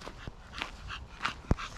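A dog whimpers softly after a hike, a few faint, brief whines and breaths close by over low background noise, without speech.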